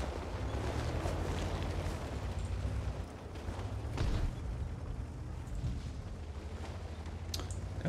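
ELC tanks, double-barrel light tanks in World of Tanks, firing in battle: muffled booms and bursts over a constant low engine rumble, with a couple of sharper reports standing out.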